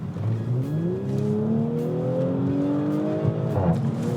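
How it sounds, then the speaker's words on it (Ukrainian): An Audi S5 with a loud aftermarket exhaust revs up hard, its engine note climbing steadily in pitch through several seconds before a sharp shift with crackling pops near the end. "Як класна машина звучить. І на перемиканнях простріли просто пушка."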